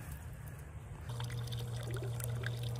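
Water running at fish breeding ponds overgrown with guppy grass and weeds, a steady outdoor pour and trickle that grows louder after the first second and continues without pause.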